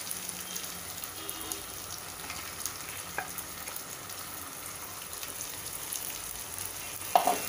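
Onions fried with tomato, ginger, garlic and green chili paste give a soft, rain-like hiss that stays low and steady, with a few faint spoon knocks and a brief clink near the end.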